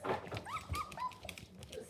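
Several puppies whimper and yip inside a kennel in short, high, wavering cries, close and fairly faint, overlapping with soft movement noises.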